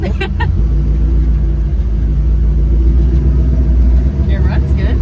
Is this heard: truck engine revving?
yes